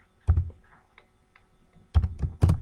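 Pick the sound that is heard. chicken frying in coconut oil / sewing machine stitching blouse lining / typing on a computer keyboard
typing on a computer keyboard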